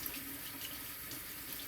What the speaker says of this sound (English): Rinsing them off in cold water.